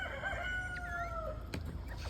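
Backyard chickens in a coop, a drawn-out crow and a few clucks at moderate distance over a steady low background hum.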